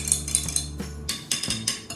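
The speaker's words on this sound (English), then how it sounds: "let's add just a little sugar, and we'll give that a good stir" A spoon clinks repeatedly against a glass while stirring sugar into orange juice, with several bright metallic taps in quick irregular rhythm, close and fairly quiet.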